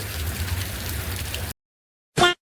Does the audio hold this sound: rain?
yes